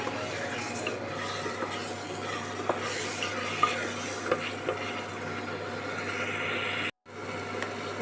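Peas being stir-fried for ghugni sizzle softly in a pan, with scraping and tapping of a spatula stirring them at a steady pace, close and without talk, briefly cut off near the end.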